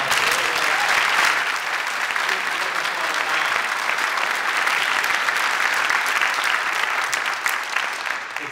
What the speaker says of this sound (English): Please give these two young women another round of applause.